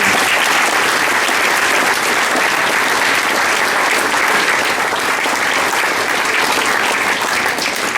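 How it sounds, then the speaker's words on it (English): Loud, sustained applause from a large audience at a business awards ceremony, continuous clapping that stays dense and even from start to finish. "Can I have a round of applause for those companies?"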